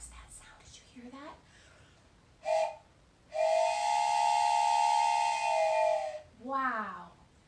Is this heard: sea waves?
no